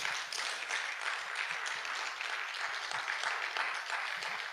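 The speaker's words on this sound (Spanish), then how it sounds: "Dale un aplauso al Señor." Church congregation applauding during a sermon, a soft, steady wash of many hands clapping heard from a distance, fairly faint, with no talking.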